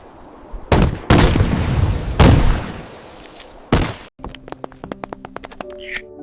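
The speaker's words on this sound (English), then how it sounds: "But still, the cannons pounded without rest." Cannon fire at the 1453 siege of Constantinople, several loud booming blasts in succession with decaying rumble, followed by a patter of sharp tapping impacts.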